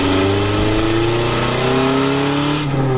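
A loud, steady car engine with an odd, uneven tone from an NB-generation car, heard close up and revving slightly, with no talk over it.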